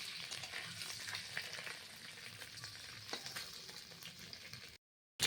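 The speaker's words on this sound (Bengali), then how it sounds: "ডিমগুলোকে আমি এখন ভেজে দিচ্ছি, লাল লাল করে একটু ভেজে দেবো।" Duck eggs crackle and spit as they fry in hot oil, a steady dense sizzle with scattered pops, ending in a brief silence.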